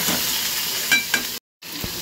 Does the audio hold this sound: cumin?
yes